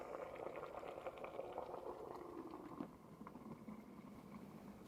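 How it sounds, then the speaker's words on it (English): A steamer heats a Thai herbal poultice, producing a faint, continuous bubbling and hissing boil with soft liquid patter, steady throughout. "Place it back into the steamer carefully."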